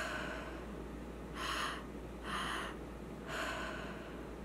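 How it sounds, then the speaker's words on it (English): Breathwork exercise done through the mouth: three airy, breathy breaths, each about a third of a second long, evenly spaced and close to the microphone, against a faint steady hum with no talking. "2 inhales in and 1 exhale out through our mouth"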